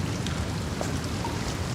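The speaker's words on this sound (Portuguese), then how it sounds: "A chuva está realmente agradável hoje." Steady rain falls in a dubbed Chinese drama scene, a continuous dense hiss of drops that stays even and moderately loud throughout, with no voices.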